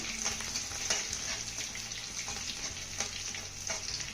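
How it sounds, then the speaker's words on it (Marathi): Crushed garlic sautéing in hot oil with cumin and ajwain, a steady close sizzle and crackle with occasional stirring scrapes, for a spicy Khandesh brinjal dish. "आता हा लसूण आपल्याला चांगला परतून घ्यायचा आहे."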